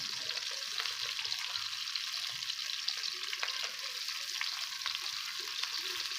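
Onion, green chilies and tomatoes fry in a pan for aloo baingan, giving a steady, moderately loud hiss with scattered small pops and occasional light stirring.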